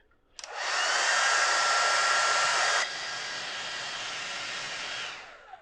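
A hair dryer switches on and blows steadily to dry a small watercolour painting, loud and close, then drops to a lower setting for a few seconds before cutting off.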